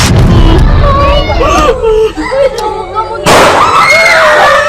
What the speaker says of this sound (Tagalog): Kundi sunod-sunod na putok ng mga baril.